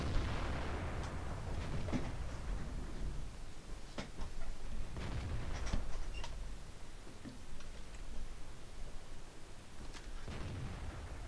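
Artillery fire from a World of Tanks match, with several sharp booming shots spaced irregularly across a quiet battlefield backdrop, each crack followed by a short decaying rumble.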